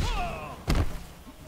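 A single sharp thud of Johnny Cage's axe kick landing in Mortal Kombat X, one brief loud impact punctuating an otherwise quiet moment of the fighting game.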